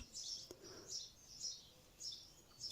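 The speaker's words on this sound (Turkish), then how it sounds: "Bu arada umarım kuş sesleri de size geliyordur." Faint, high bird chirps repeating every half second or so over a quiet background hiss, distant and steady.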